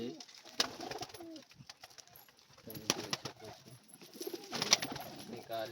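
Pigeons in a loft coo in repeated soft bursts close by, with low throaty calls recurring every couple of seconds and a few sharper flutters between them, no one talking.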